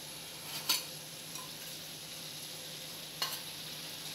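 Dal boils in a pot with ghee added, a steady soft hissing bubble broken by two sharp clinks of a spoon against the pot, with no talking.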